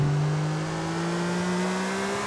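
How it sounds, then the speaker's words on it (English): A car engine in Grand Theft Auto IV revs loudly and steadily, its pitch climbing slowly as the vehicle accelerates, with no talk over it. "This engine is quite loud."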